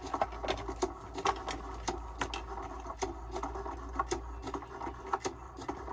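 A Cricut machine cuts a craft project, giving a steady mechanical whir with a rapid patter of small clicks and taps, close and moderately quiet.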